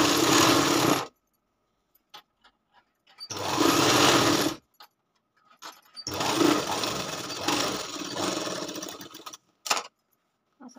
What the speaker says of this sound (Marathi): परत एक दाब शिलाई मारून घ्यायची.